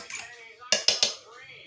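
A fork scrapes and clinks against a crock-pot while stirring chicken and gravy, with three sharp metallic taps in quick succession after a softer scraping stir, close and fairly loud.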